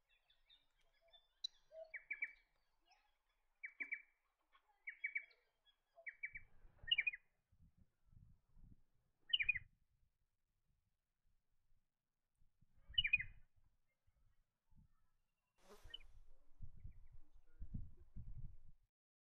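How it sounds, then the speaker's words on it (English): A striated pardalote calls repeatedly in the Gatton area, giving clear, evenly spaced bursts of sharp notes that stand out over quiet surroundings, later joined by low rustling and handling noise. "Another delightful little bird you might hear is the striated pardalote."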